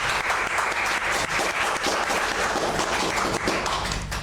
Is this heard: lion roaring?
no